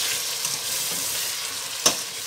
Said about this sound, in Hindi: इनको अच्छी तरह भूनेंगे।